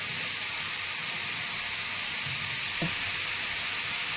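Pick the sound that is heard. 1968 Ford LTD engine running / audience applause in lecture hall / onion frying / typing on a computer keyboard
onion frying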